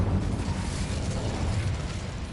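In the video game Hogwarts Legacy, casting the Incendio fire spell produces a steady, roaring, broadband whoosh of flame. It is loud and continuous for a couple of seconds, heard alone.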